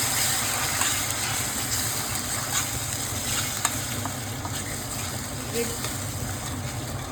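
Red onions for a mutton curry sizzle loudly and steadily in a pan while being stirred, with a constant frying hiss throughout.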